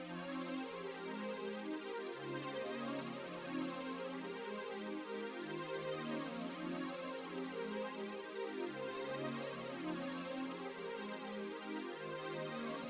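Sustained Swag pad synth patch from a Synology sound bank, played alone with no drums: a dense, steady wash that holds at an even level throughout, its low notes shifting every couple of seconds underneath.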